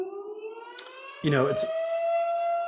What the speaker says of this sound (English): apparently there's some kind of air raid siren going off